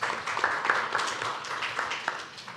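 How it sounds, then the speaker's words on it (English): Applause for a panel of speakers at a conference on AI partnerships for sustainable development, a dense steady patter of many hands clapping at moderate level through the whole stretch, with no voices over it. "round of applause for our panelists"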